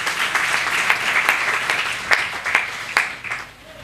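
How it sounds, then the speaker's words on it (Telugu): A church audience claps loudly for Padre Pio, a dense burst of applause with distinct sharp claps standing out, close and sustained before fading slightly at the end. "పాద్రి పియో గారికి గట్టిగా చప్పట్లు కొట్టి వందనాలు చెల్లిస్తాం"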